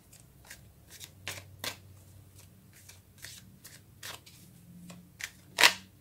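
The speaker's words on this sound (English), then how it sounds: "let's get some cards for May." Tarot cards shuffled by hand in a series of soft, quick slaps and riffles with uneven rhythm, ending in a sharper snap, close and quiet with no talk.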